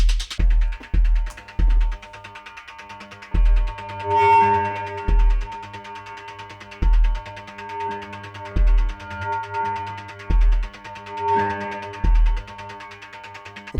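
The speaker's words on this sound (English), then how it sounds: "we're setting up a very simple signal flow where the signal gets fed back onto itself to create like a kind of a screeching, crazy runaway point" Feedback loop built in Ableton Live, with a signal routed back onto itself: throbbing low pulses and layered sustained tones that swell and hum with a rising edge, repeating in loose rhythmic bursts, loud and alone without talk.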